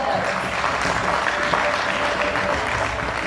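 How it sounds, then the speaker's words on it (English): Audience at a welcome event for attendees from four branches applauding, a broad continuous wash of clapping that is loud and sustained with faint crowd noise mixed in. "So a huge round of applause to everyone that's present here from all the 4 branches."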